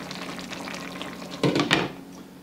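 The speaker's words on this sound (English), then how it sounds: "I'm going to reduce the heat, and I'm going to let it sit here and simmer for about 10 more minutes" A pot of taco spaghetti simmering on reduced heat gives a low, steady bubbling hiss, with a brief louder burst of sizzling or stirring near the end.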